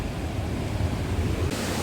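Sea waves washing onto the shore near Dwarka, a dense, steady roar of surf with a low rumble, brief and without voices.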